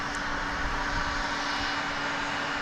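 A 20th-century propeller aircraft at an airport, its engine a steady, fairly distant droning hum with a constant tone running through the short stretch, no voices.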